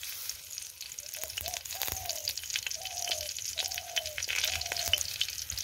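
Dried red chillies sizzling in hot oil in an iron wok, a steady crackling hiss with scattered taps. Faint high chirping tones recur in the background.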